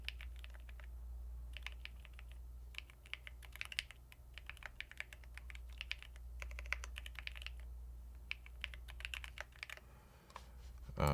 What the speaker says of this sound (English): Can you name the keyboard that I'm using? Yeah, it's called a Bubble 75.